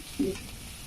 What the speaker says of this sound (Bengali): আমার আদা রসুনটা ভাজা হয়ে গেছে